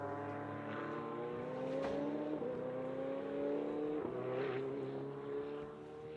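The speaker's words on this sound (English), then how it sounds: "And now we'll hear the V10 again sing by down the back straight." A high-revving V10 GT race car screams past at a distance down the back straight at MotorLand Aragón, its pitch climbing through gear changes before fading slightly at the end.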